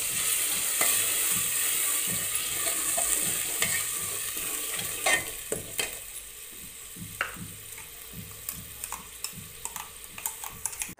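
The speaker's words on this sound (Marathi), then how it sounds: "आता मंद आचेवर हे वाटण आपण अगदी तेल सुटेपर्यंत परतवून घ्यायचे आहे" Onion, tomato, ginger, garlic, coriander and coconut masala paste sautéing in oil over low heat for chole curry, a steady close sizzle with repeated spoon scrapes and stirring knocks against the pan, no voices.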